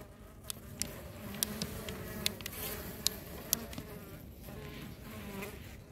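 Honey bees buzz steadily at an opened hive with a fondant patty inside, a dense low drone with individual bees zipping close past now and then, no talking.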